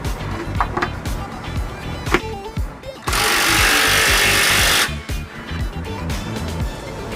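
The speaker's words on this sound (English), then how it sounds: "We're going to use the electric drill just to snug them down" A power drill whirs loudly for about two seconds, snugging down bolts while installing a trailer hitch on a 2002 Dodge Neon, amid clanking and rattling of metal parts and tools.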